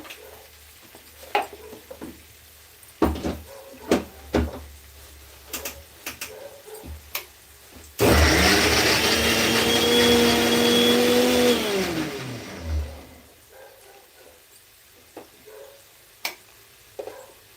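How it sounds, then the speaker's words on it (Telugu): A mixer grinder blends green chillies, garlic, onion and cumin, roaring loud and close for about four seconds with a pitch that dips as it runs, framed by scattered clicks and knocks from handling the jar. "కాస్త వెల్లుల్లి కూడా వేసి మిక్సీ చేస్తాను"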